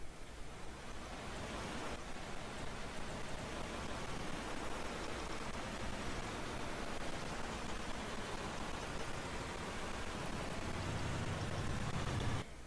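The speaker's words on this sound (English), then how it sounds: "It's basically just rain that you can hear, and nothing else is happening." Old recording of steady rain, a constant broadband hiss that runs unbroken and fairly quiet from start to finish with nothing else over it.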